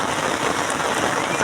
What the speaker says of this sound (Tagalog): tuloy-tuloy ang buhos ng tubig mga master, ng buhos ng ulan